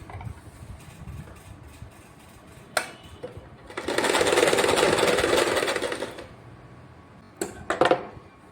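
An electric sewing machine stitches a cloth border onto a pocket wall hanger made from fabric cutting pieces, one close, rapid whirring run of about two seconds framed by quieter clicks and handling noises.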